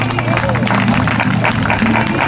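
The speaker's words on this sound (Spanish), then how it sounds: "Un fuerte aplauso." An audience at a historic vehicle presentation claps loudly and continuously, dense applause with crowd murmur mixed in, close and sustained throughout.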